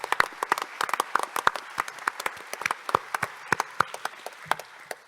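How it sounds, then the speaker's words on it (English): A small audience at a conference closing session claps, a sparse, loose round of applause with distinct individual claps close by. "if we could actually have a round of applause for Seiji"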